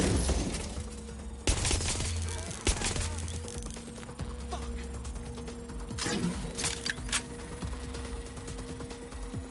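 Flashbang and gunfire in the Watch Dogs Legion video game come through as scattered sharp bursts and clattering shots over a low mechanical hum, with several louder cracks spread irregularly across the fight.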